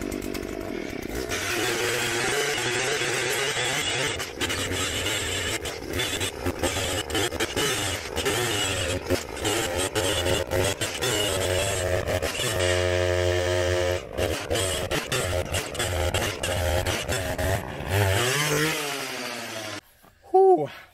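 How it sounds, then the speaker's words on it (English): A Badger hand-held engine auger digs post holes in clay outdoors, its small gas engine droning loudly and steadily for about twenty seconds, the pitch rising and sagging under load before it cuts off. "So I'm going to dig a couple post holes out here, and we're going to show you how this thing works."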